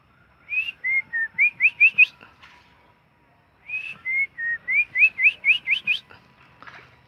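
A person whistles in imitation of female magpie robin calls, two bursts of quick, bright rising and falling notes separated by a short pause, clear and close.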